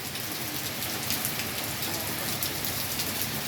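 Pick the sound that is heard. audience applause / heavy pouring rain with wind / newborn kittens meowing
heavy pouring rain with wind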